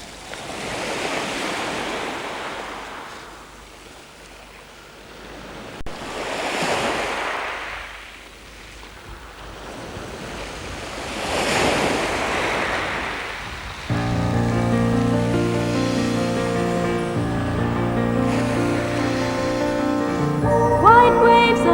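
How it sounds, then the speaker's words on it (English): Sea waves wash in repeated surges onto a pebble shore, each rising and falling over a few seconds, loud and close; in the second half a melodic tune joins the waves. "White waves are splashing, on the shore they're crashing, washing over pebbles"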